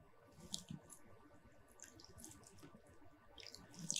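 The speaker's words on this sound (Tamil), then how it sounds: "கொஞ்சமாக தண்ணி தெளிச்சிக்கலாம்." Light splashes and trickles of water sprinkled into a thick maida batter of mushroom and cabbage for pakoda, with soft wet patters scattered over a few seconds.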